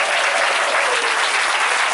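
A congregation at a prayer vigil applauds, dense steady clapping from many hands filling the space at full loudness throughout, with no voices standing out.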